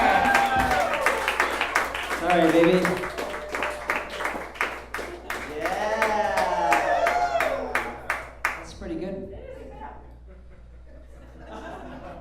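A live comedy talent-revue audience claps in quick rhythmic bursts, mixed with laughter and chuckles, under ongoing talk from people on stage; the clapping thins out toward the end.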